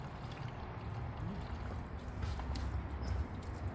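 Purple Power degreaser mixed with water is poured into a car engine, a steady gurgling pour close by that keeps going without pause.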